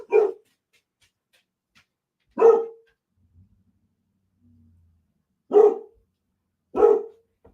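Dogs in a yard bark in four sharp, loud separate bursts spaced by seconds of near silence, one single bark after another.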